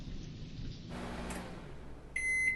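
A short electronic beep made of bright stacked tones sounds near the end, after a soft, low rumbling wash of noise. It is brief and clear, with no voices.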